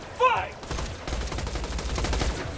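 A glitched laser gun in a Borderlands game fires in rapid repeated bursts, a fast rattling stream of shots after a brief warbling whine, loud and close.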